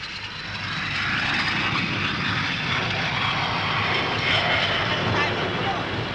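Aircraft flying at the Farnborough airshow in the 1950s, a loud continuous engine roar that builds in the first second and holds steady, with someone speaking over it.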